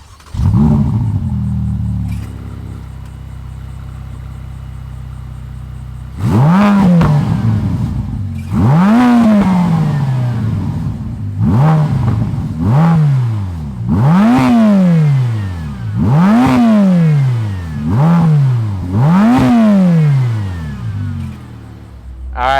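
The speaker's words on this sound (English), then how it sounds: "We're gonna fire up this F8 Tributo Spider." A 2020 Ferrari F8 Tributo Spider's engine fires up, settles into a loud idle, then gives a series of about eight sharp revs that each climb and fall back, heard up close.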